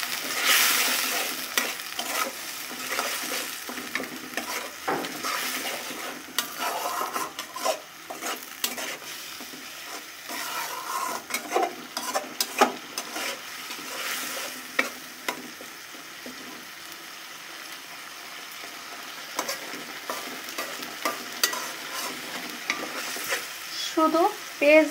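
Rohu fish frying with onion paste in a pan, a steady sizzle under repeated scraping stirs and spatula rasps, close and moderately loud throughout.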